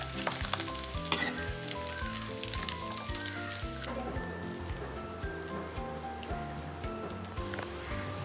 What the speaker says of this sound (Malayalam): ഇതിലേക്ക് മീൻ ഇട്ടിട്ടുണ്ട്. ഫ്രൈ ആയി വരട്ടെ.